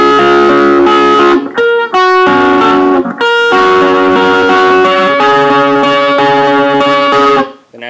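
Distorted electric guitar slowly strums the chords of the riff, each chord ringing loud and sustained with short gaps between changes.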